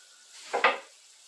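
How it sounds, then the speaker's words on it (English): A big lid set onto a pot of beans on a home stovetop, giving a short double clatter of metal on metal around the middle, close and moderately loud over a quiet room hiss. "I'm going to put my beans in there and then put my big lid on there"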